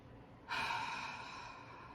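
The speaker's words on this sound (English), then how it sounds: "A couple deep breaths." A single deep, slow breath during a guided meditation, drawn in sharply and then held as a soft, airy rush, close and quiet with no talking.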